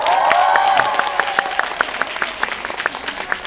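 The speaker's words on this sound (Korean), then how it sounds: "박수 한번 주세요." Applause from the audience at a comedy stage show, starting as a full burst of clapping under a loud voice and music, then thinning into scattered individual claps that trail off toward the end.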